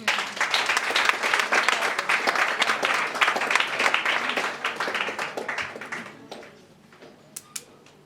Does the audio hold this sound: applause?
yes